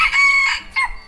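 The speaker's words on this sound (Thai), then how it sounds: "ไก่เป็นขันดีเนาะ" A rooster crows in a rural village of the Brao people near Bua La Pha, a single rising call, fairly close and loud with no talk over it.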